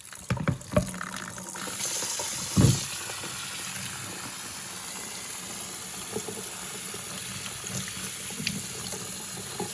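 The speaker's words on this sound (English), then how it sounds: "So as you can see, the water comes out" Tap water pours steadily into a bowl of rice being rinsed for Mexican rice, a constant close splashing rush with a few louder clunks and sloshes near the start, no talk.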